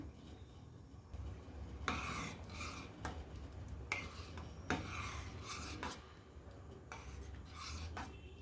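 Payasam with cardamom powder is stirred in a pot, a spoon making repeated rasping scrapes in separate strokes about once a second over a low background hum, close and fairly quiet.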